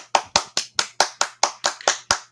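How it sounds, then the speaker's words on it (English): A slow, deliberate golf clap from a single person: about ten crisp, evenly spaced hand claps in a steady rhythm, close and clear with nothing else underneath. "Golf clap."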